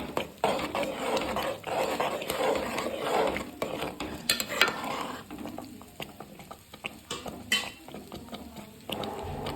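Upma with grated coconut being mixed in a pan, a spoon repeatedly scraping and knocking against the metal in an uneven rhythm, close and moderately loud.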